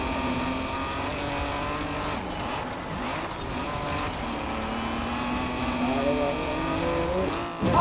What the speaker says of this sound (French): Fais-moi bouger ce moteur de Honda japonais.